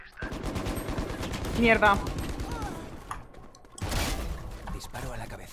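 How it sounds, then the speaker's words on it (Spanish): Gunfire in the tactical shooter Valorant, rapid bursts of shots with a sharp cluster near the middle and another loud volley later, sounding close and punchy beneath players talking over voice chat. "Disparo a la cabeza."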